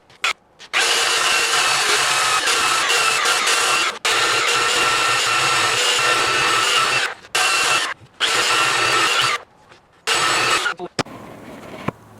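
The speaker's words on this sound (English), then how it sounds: "I'm gonna chamfer these and get them all rounded and get it nice." A power tool chamfering and rounding the edges of a small wooden mini countertop, heard as loud whirring bursts, each running a few seconds and separated by brief pauses.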